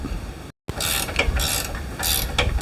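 A ratchet clicks rapidly while tightening bolts on a front-mounted tow hitch under a vehicle, with loud, close bursts of mechanical pawl clicking and a brief silent gap early on.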